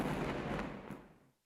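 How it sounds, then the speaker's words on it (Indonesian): Explosions and artillery fire in Gaza City from news footage, a dense rumbling roar of blasts with a few sharper bursts that fades out over about a second. "Kepulan asap dan ledakan pun terlihat di beberapa titik di kota Gaza dampak serangan Israel"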